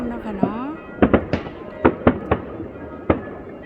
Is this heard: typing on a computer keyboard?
no